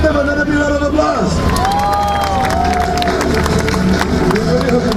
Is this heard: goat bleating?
no